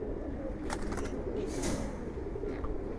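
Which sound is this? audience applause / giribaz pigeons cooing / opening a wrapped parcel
giribaz pigeons cooing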